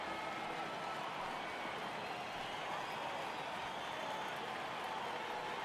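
Crowd noise in an MLB 2022 baseball video game as fans rise for a full count, a steady, dense roar of cheering and murmur sustained throughout at moderate level.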